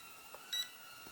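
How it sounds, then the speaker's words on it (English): A Potensic A20W mini-drone controller gives one short, high, clear electronic beep, quiet and fairly close, against a faint steady background hum. "the controller is beeping"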